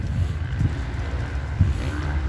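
Wind gusting at an outdoor motocross track, a rough low rumble of buffeting on the microphone with a few stronger gusts, close and steady, with no speech.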